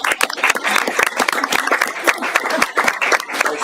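Audience applauding at a city council meeting, a steady patter of many hands clapping close by, irregular and sustained, with faint voices underneath.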